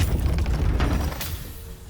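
A deep boom rumbles and fades over about two seconds in the video game Baldur's Gate 3, a single heavy explosion with a low tail and a faint crackle.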